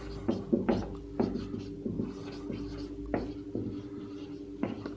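Marker or chalk scratching on a board during a physics lesson on magnetic field lines, short strokes and taps at an uneven pace, close, with a teacher's voice speaking intermittently between them.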